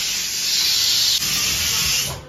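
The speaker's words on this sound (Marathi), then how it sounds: "कुकरची शिट्टी आली, भात पण रेडी झालाय आता।" A home kitchen pressure cooker releasing steam through its whistle after cooking rice, a loud, close, continuous hiss that holds steady with a brief dip partway through.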